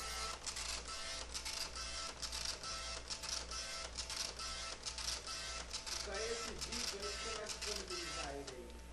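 An Epson LX-300 dot-matrix printer prints tables, its rapid buzzing head passes broken by short pauses and a line-feed whir near the end, with a person talking over it.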